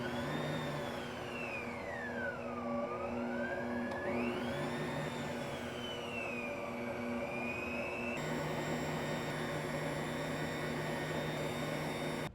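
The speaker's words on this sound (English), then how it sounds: "So I'm gonna start the mixer and just slowly add that in." Electric stand mixer running steadily as it kneads soft, slightly sticky dough made from fresh-milled sprouted grain flour for Ezekiel bread, a continuous motor whine with a shifting pitch, close and alone with no talk.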